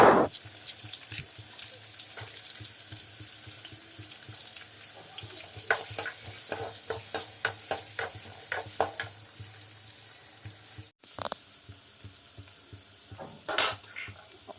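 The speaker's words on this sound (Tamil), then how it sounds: "ஆயில் சேர்த்துட்டு அதிலே வந்து இஞ்சி பூண்டு இதெல்லாம் போட்டு பொன்னிறமாக வறுத்து எடுக்க போகிறேன்" Ginger and garlic fry in sesame oil in a pan, a continuous soft sizzle and hiss with a run of quick spoon taps and scrapes in the middle and a brief clatter near the end, close by and without speech.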